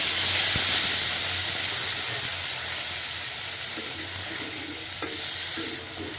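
Potatoes, cauliflower and slit chilies fry in hot oil with a loud, close, hissing sizzle that starts strongly and eases slightly, with a few soft stirring knocks and no voices.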